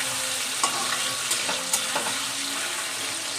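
Salted potatoes browning in a hot pan, giving a dense, continuous sizzle close up, broken by a few sharp scrapes and clinks of stirring, with no talk.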